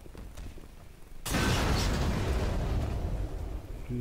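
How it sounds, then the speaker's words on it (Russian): In the video game Black Mesa, barrels erupt in a sudden loud explosion about a second in, followed by a heavy rumbling roar and debris that slowly fades. "Бочки взрываются."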